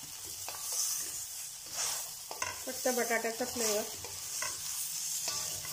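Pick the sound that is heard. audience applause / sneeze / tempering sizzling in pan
tempering sizzling in pan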